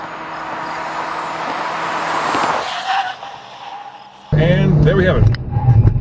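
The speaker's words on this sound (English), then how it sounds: "Whoa, those brakes just grabbed." A 2014 Chevy Volt on a hot lap: loud driving noise fades, then its brakes suddenly grab with a harsh, abrupt burst of tire squeal and scrubbing noise close by.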